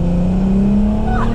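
Audi A3 3.2 Quattro 8P with its VR6 engine, a loud, close droning engine note rising slightly in pitch as it pulls, heard from inside the car with the windows down.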